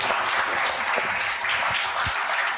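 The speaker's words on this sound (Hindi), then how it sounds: "चलिए तालियों के साथ स्वागत करते हैं प्रीति प्रेमनाथ जी का." Studio audience applause welcoming a guest on a talk show, steady dense clapping throughout with a few low thumps underneath.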